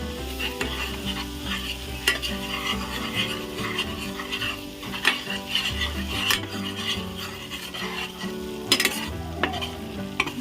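Wheat flour being stirred in hot oil for sukhdi, a steady scraping, rasping stir over continuous sizzling frying, close and even throughout with no talk.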